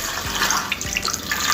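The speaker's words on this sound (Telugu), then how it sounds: "అరటికాయలు మునిగేంత వరకు వాటర్ వేసుకోవాలి." Water pours into a pressure cooker holding raw bananas in a home kitchen, a continuous close splashing gush with no talking.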